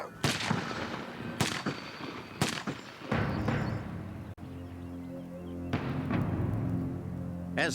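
Gunfire in a crime reenactment: several sharp, loud shots in an uneven burst over the first few seconds, each with a rumbling tail, followed by a lower, steadier dramatic rumble and one more late crack.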